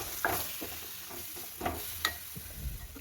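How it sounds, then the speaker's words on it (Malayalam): Roasted ground masala sizzles as it is sautéed into a green tomato curry in a pan, with soft frying crackle and several sharp scraping stirs of a spoon. "അപ്പോൾ മസാലയും കൂടെ ചേർത്തിട്ടൊന്ന് വഴറ്റുവാണ്"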